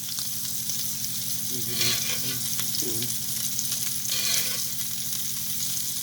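Beef tenderloin sizzles steadily in a pan of butter with garlic and salt, a constant close hiss with brief bursts of louder spattering as the meat is moved around; no one speaks.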